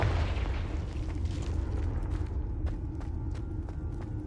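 Confringo spell blast in Hogwarts Legacy, a heavy, sustained low rumble of explosion with rolling debris, then a series of sharp cracks and pops as it settles.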